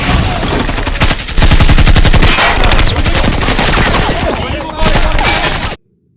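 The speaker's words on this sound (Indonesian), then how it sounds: "Kemudian terjadilah baku tembak antara Fisher dan Dimitri dengan anak-anak buah Olak." A film gunfight erupts with dense, continuous machine gun bursts and overlapping shots, loud and close, with a brief lull before a final burst that cuts abruptly to silence.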